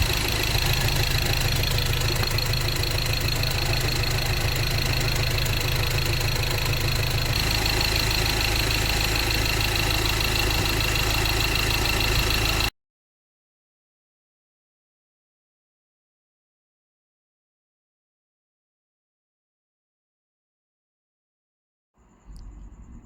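A noisy, smoky Ford Ranger 2.2 diesel engine idles with a steady knocking rumble for about thirteen seconds. Silence follows, and a brief burst of sound comes near the end.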